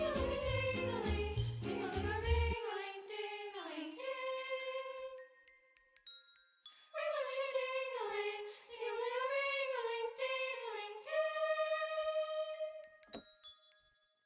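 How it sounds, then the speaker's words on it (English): Toy bells play a bright, tinkling counter melody in a Christmas big band waltz, ringing clear, sustained notes in phrases with pauses between them, loud and close with no talk over them. "I kind of interspersed that with this little counter melody right here from the Toy Bells."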